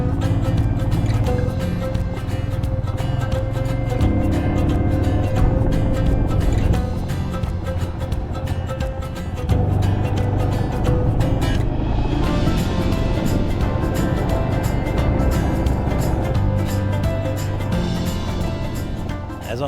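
Motorcycle on a corrugated dirt side road in high country, its steady engine drone mixed with rattling and rumbling from the rough surface, continuous and close throughout with one brief easing in the middle.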